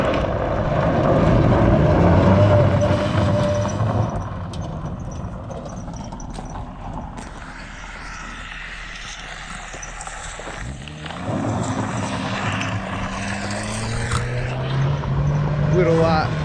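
A Mazda Miata fitted with a wing drifts at a car club event, producing a loud, sustained roar of engine and tire noise that eases off mid-run and then swells with rising revs toward the end.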